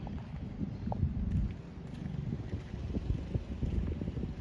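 Gusty wind buffets the microphone outdoors while walking on a 70-degree morning, a steady low rumble with soft irregular gusts rising and falling, no talking.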